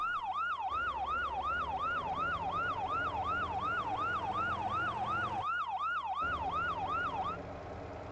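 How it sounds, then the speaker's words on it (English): Fire truck siren in the driving game Motor Town, a loud continuous wail cycling rapidly up and down in a steady repeating rhythm, over a low engine drone, cutting off near the end. "Let's get some siren on."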